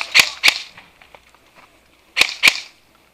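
Airsoft guns fire during an outdoor skirmish game: two pairs of sharp, snappy shots, the first pair at the start and the second about two seconds later, with faint rustling between.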